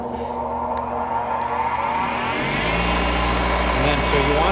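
A 1950s Fairbanks Ward drill press motor spins up to speed. A low, steady hum builds midway and then settles into a continuous close whir under faint background noise.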